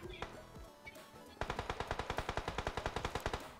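Rapid automatic gunfire in the battle royale game PUBG: after a couple of isolated shots, a steady burst of about twenty evenly spaced rounds rattles loud and close for two seconds.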